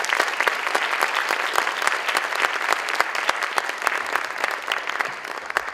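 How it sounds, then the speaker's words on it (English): An audience at a gala claps for student honorees, steady dense applause from a large crowd that holds evenly throughout with no voices over it. "let's give another round of applause to these fine students."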